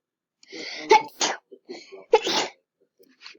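A person sneezes twice in quick succession, close and fairly quiet, with breathy vocal sounds before and between the sneezes.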